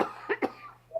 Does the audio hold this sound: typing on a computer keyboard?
no